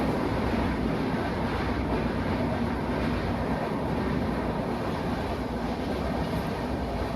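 A train rumbles steadily and loudly at Dadar railway station in Mumbai, a continuous dense roar of rail noise without breaks or speech.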